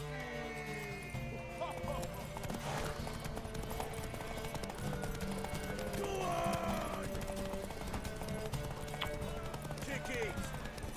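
In The Witcher 3: Wild Hunt, hooves clip-clop in a steady galloping rhythm during a horse race, with an occasional neigh, under continuous game voices talking over the ride.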